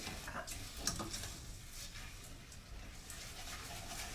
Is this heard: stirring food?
yes